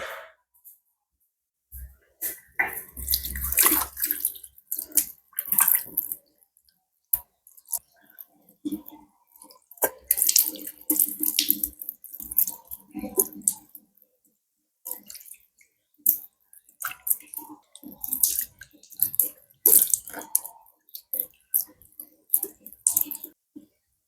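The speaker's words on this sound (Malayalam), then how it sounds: "ഇനി നമുക്ക് വാഷ് ചെയ്യാം" A face is rinsed with plain water after a skin-care treatment for suntan and blackheads, giving intermittent close splashes and trickles in short bursts separated by quiet pauses.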